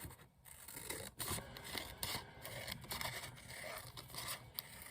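Scissors trim a paper craft tag close by, giving soft, quiet snips and scraping rustles in an uneven series of cuts with no voice.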